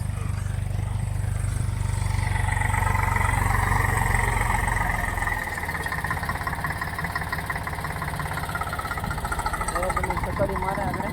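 A motorbike engine runs steadily at close range, a strong low drone that drops in pitch partway through and keeps chugging, with people talking over it.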